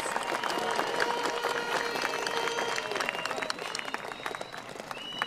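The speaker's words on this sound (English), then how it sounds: "Let's give all of our students a round of applause, please, for all their accomplishments." A large crowd at the Nava College Preparatory Academy graduation ceremony applauds, sustained loud dense clapping with scattered cheers and crowd murmur, easing slightly toward the end.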